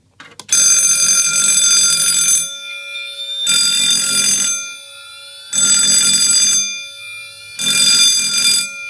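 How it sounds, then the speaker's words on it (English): Halon fire suppression system alarms blare loudly as the automatic zones activate, four long piercing bursts with short gaps between, close by and with no voices. "we're going to start off by activating the automatic zones on the Halon system"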